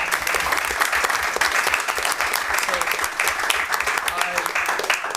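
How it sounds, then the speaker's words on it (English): Applause at a school committee meeting honoring long public education service, a loud, continuous crowd of clapping close to the microphone, steady throughout with occasional sharper individual claps standing out. "let's give her a round of applause for that."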